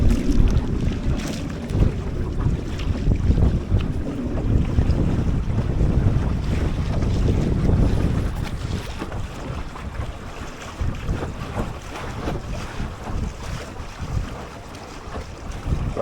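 Wind and waves rush past a Drascombe lugger sailboat during a race, a loud, continuous roar of wind buffeting the microphone over sloshing water, easing somewhat in the second half, with no talking.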